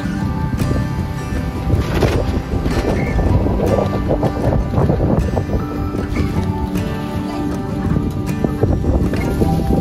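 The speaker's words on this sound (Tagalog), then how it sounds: "Lakas ng ulan, no? Tsaka hangin." Loud, continuous roaring wind with heavy rain driven hard at a high mountain campsite in Sagada, Mountain Province, dense rushing noise buffeting the microphone without a break.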